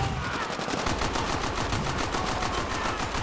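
Rapid sustained automatic gunfire from the Call of Duty video game rattles without pause, loud and close, in a dense even stream of shots.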